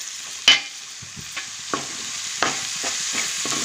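Onions and tomatoes fry in hot oil in a pan for a fish curry, a steady sizzle broken by several sharp scrapes and clinks of a spoon stirring, close and alone with no talk.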